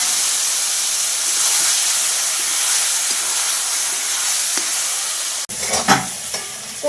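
Bitter gourd, potato and okra fry together in a pan with a steady, close hiss and sizzle. Sharp clatters of stirring break in near the end.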